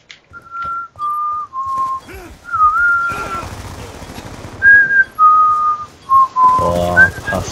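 A person whistles a string of short, steady notes over Black Ops 2 voice chat, loud and close, while bursts of rapid in-game gunfire rattle underneath in the middle and at the end.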